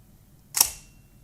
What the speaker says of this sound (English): you can see there that the shutter opened and closed